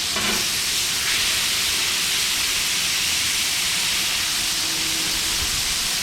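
Food sizzles steadily on a Lodge cast iron griddle over a Coleman 425 camping stove just after being flipped, a continuous broad hiss at even loudness throughout with no talking.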